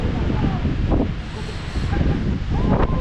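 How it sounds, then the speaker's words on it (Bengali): Strong, bitterly cold wind buffets the microphone on Fansipan peak in Sapa, Vietnam, a loud, continuous roaring rumble with gusts that swell and ease, and no talking. "কি পরিমাণে যে হাওয়া চলছে এটা আমি বুঝিয়ে পারবো না কাউকে।"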